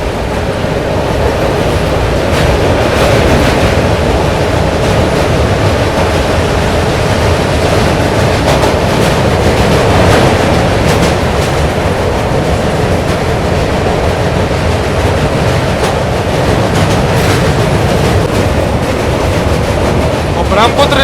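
Guwahati-Agartala Express rolling across the Saraighat rail-cum-road bridge over the Brahmaputra, a steady loud rumble with rhythmic clatter of wheels throughout, a voice talking over it.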